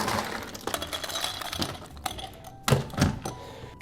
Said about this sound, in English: the first thing that I'm going to do is add some ice to my glass.